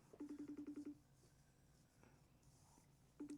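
A phone ringback tone on an international call plays as a rapid string of short, steady pulses, pauses, then resumes at the end, with faint background noise between.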